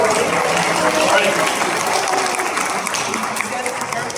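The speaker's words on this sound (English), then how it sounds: "A round of applause for Sunny and Sophia." An audience at a bubble science show at Brookhaven National Laboratory applauds, a dense, steady burst of clapping from a crowd that carries on evenly for several seconds.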